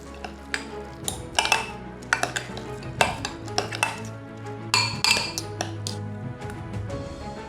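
Seasoned food with salt, black pepper and oil being stirred in a pan for Tunisian marmez, heard as close, uneven scrapes and clinks of a utensil on metal, with a low hum running underneath.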